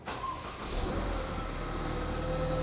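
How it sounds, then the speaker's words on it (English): A car engine with a misfire code cranks and catches, then settles into a steady idle with a continuous close engine drone. "So let's start the engine right now."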